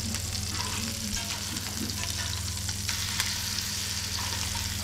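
Duck pieces pan-sear in butter and oil, giving a steady close sizzle and crackle with a low background hum throughout.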